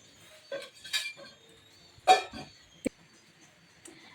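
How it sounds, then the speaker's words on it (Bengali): A metal fork clinks against a pan while fried potatoes are pricked, a few sharp, scattered taps and scrapes spaced apart over quiet background. "আলুগুলি আমি একটু কাঁটা চামচ দিয়ে একটু করে নিচ্ছি"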